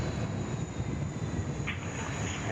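A jet taking off from the runway at Sydney Airport, a loud, steady broadband engine roar holding throughout with no talk.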